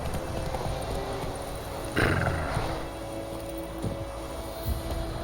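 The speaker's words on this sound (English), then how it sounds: "El pánico del caballo, mira vos." Panicking horse in The Witcher 3 video game, with a sharp burst around the middle over steady game ambience and low rumble, followed by a few thudding hoof-like knocks toward the end.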